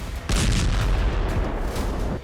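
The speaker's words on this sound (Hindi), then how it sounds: "इस वीडियो में देखिए कैसे इस ड्रोन से रूस के T-72 टैंक पर हमला किया गया" A fiber-optic drone strike on a Russian T-72 tank produces a heavy, rumbling explosion: a sudden loud blast followed by a sustained roaring boom with no voices.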